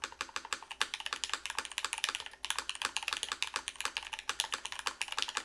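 Steady, rapid typing on a custom-built Zekkworks Ogre mechanical keyboard with deep keycaps, dense close clacks in an even rhythm with a brief pause midway.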